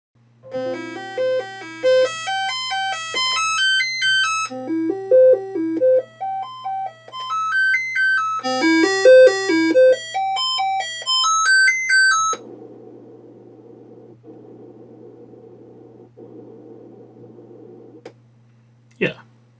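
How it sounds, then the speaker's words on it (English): A Commodore 64 SID chip plays bright, stepped synth tones in rising and falling arpeggio runs, then shifts to a flat buzzing drone, with a constant low hum underneath and a brief click near the end. "we will be able to see or hear the sounds from the SID chip also"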